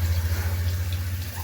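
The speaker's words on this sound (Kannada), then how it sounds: "ಇವಾಗ ಅದೇ ಎಣ್ಣೆ ಒಳಗಡೆ GRB ತುಪ್ಪ, ಇನ್ನೊಂದು ಸ್ವಲ್ಪ ಹಾಕಬೇಕು." GRB ghee is poured into hot oil in a pan, making a continuous close sizzle and bubbling over a low hum, with no one speaking.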